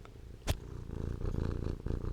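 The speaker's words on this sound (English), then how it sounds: "can you give a little purr into the..." A cat purrs with a steady low rumbling throb, close and soft, interrupted once by a brief sharp click.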